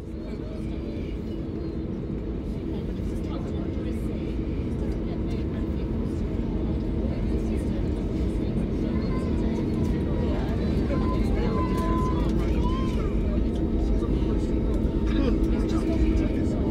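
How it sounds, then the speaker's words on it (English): Inside the cabin of a passenger airliner on a package-holiday flight to Agadir, the engines make a steady, loud roar throughout the takeoff run and climb, with constant low rumble and no clear pauses. "let's see this takeoff sequence we got to incredibly quickly because the airport was not busy"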